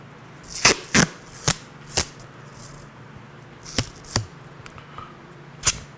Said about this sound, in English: we are gonna reinforce this with 2 additional layers of tape